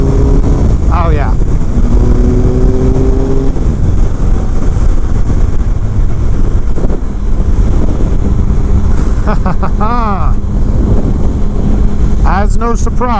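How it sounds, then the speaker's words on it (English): A 2016 Triumph Speed Triple R naked motorcycle being ridden, engine drone under heavy wind rush with a few rising rev sweeps, while a rider talks over it. "she's got some power there, Bubba. You know, for a naked bike"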